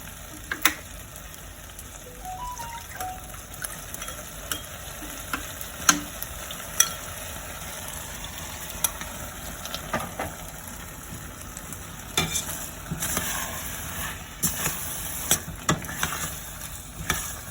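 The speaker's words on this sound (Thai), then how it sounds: "นี้ต้องคนแล้วนะคะ อย่าให้ก้นมันไหม้จะไม่อร่อย" Beef curry for Japanese curry rice being stirred as it fries in a pan, with continuous soft sizzling and irregular scraping spoon strokes, close and steady, no talking.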